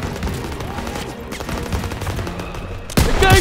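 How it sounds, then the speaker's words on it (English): Sustained heavy gunfire from a World War II battle in Call of Duty: WWII, a dense barrage of overlapping rifle and machine-gun bursts that swells louder near the end, close and continuous. "Suppressive fire!"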